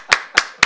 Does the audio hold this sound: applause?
yes